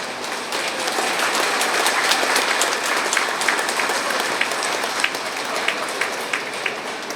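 Sustained audience applause at a student honouring ceremony, given as thanks: a thick, even wash of many hands clapping throughout, with occasional sharper individual claps standing out near the front.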